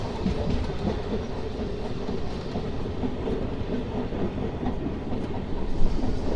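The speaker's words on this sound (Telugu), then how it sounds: "ట్రైన్ వచ్చేసి అప్పికట్ల నుంచి అయితే బయలుదేరిపోయింది" A MEMU express train running on rails on the route between Appikatla and Bapatla. It gives a steady, loud clickety-clack of wheels over rail joints with continuous rumble throughout, heard from on board, with no talk.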